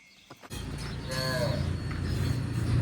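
Several cows moo loudly nearby, long low calls rising and overlapping, over a steady rumble of farm background noise.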